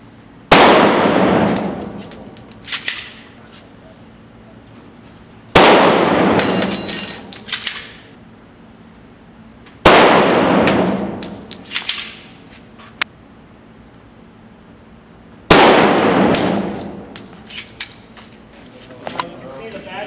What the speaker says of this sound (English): You shoot the armor now.